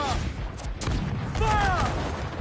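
Ship cannons firing in Assassin's Creed IV: Black Flag, heavy booming blasts in quick succession over rumbling sea-battle noise, with shouted crew voices rising over the barrage.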